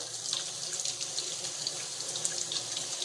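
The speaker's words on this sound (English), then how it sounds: "So what I do is I just take warm water" A tap runs warm water at a sink to rinse out a dirty polishing pad full of compound, a steady hissing splash with faint irregular spatters, close and unaccompanied by speech.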